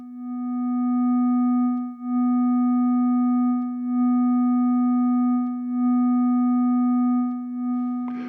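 A sustained FM synthesizer note holds a steady, pure-toned pitch with a few faint harmonics, loud and alone, with slight dips in level before a brief noisy burst at the end.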